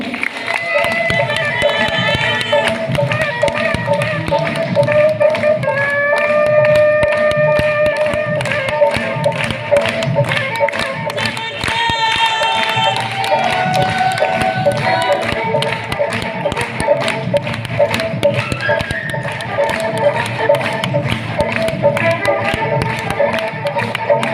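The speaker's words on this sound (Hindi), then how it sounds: "जबरदस्त तालियों के बीच में" Audience applauding loudly at a gathering, with vigorous, rapid clapping continuing throughout under music and a voice.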